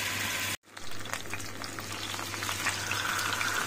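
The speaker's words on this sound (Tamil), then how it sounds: "இப்போ எண்ணெய் காஞ்சிருச்சு. ஒரு பீசஸ் தான் நான் அதில் வைக்கிறேன்." A marinated tandoori chicken piece drops into hot oil on a tawa and fries with a steady, close, bright sizzle that follows a brief cutout at the moment it goes in.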